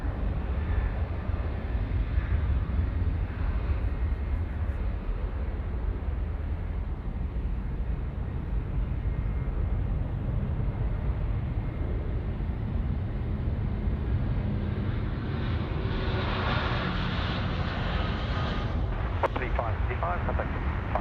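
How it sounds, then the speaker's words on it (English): Airbus A380 airliner on approach to Sydney Airport: a steady, distant broad roar of jet engines that holds for the whole stretch and swells somewhat near the end. "All right, the first of the three heavy metal A380s coming in now in quick succession."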